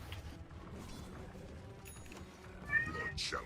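A cat's meow sounds faintly near the end over low room noise and background game audio.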